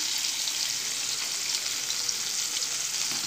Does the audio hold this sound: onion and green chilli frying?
yes